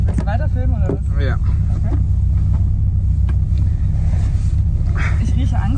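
A classic Škoda 110 R idles with a steady low rumble inside the cabin while the car is put into first gear, the engine drone continuous under people talking.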